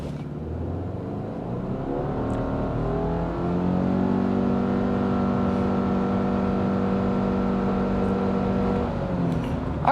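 A 2024 Subaru Crosstrek Wilderness with all-wheel drive accelerating hard from a standstill in sport mode, the engine droning up into a strong, sustained rising whine heard from inside the cabin, loud and steady.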